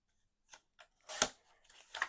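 Paper being cut with scissors for a file folder folio pocket flap, a few brief close snips and crisp rustles, the loudest in the middle, with no talk.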